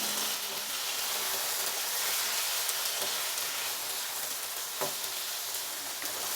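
Tomatoes cut lengthwise into large pieces hit a pan of frying potatoes, raising a steady, bright sizzle and hiss that carries on evenly, with faint stirring clicks.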